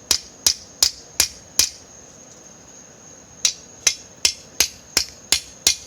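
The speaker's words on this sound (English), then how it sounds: "I'm just using a ball peen hammer for this guy, because it doesn't have to be that technical." A ball peen hammer striking hot metal during backyard forging gives sharp ringing metallic blows, five evenly spaced hits, a pause of about two seconds, then seven more in a steady rhythm, each clang close and bright.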